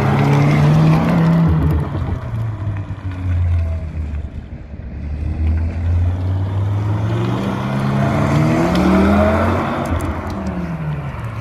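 An Audi RS6 with a diesel engine revs loudly and close by, its deep low rumble swelling and falling in repeated pulls with no talking.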